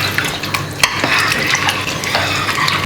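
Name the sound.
stirring the beef in the pot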